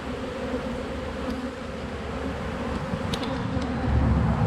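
Honeybees buzzing around an open hive with brood frames and a nucleus colony, a steady dense hum close by, rising slightly near the end, with no talk.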